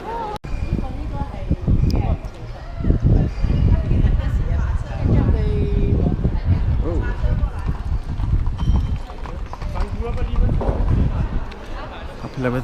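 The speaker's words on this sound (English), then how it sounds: "Go for a ride on a horse." Horse hooves clip-clop on a Vienna street, a steady close rhythm of hoof strikes that runs under continuous talk.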